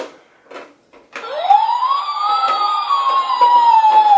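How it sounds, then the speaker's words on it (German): A toy ambulance siren wails loudly and close in a playroom, a rising and falling electronic tone that starts abruptly after a brief pause and keeps going. "mit ihrem Krankenwagen zu spielen"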